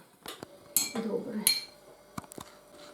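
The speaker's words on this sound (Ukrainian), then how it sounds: "Ось так у баночку я наложила м'ясо" Meat pieces packed by hand into a glass jar, with soft clinks and knocks of meat and fingers against glass, a few scattered sharp taps among muffled handling, close and fairly quiet.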